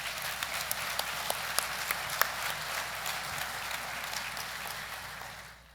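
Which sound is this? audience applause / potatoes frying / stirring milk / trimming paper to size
audience applause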